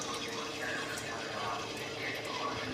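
Water from a rinsed mixer bowl pours into a pot of chicken curry, a steady close liquid splash and trickle running through the whole moment.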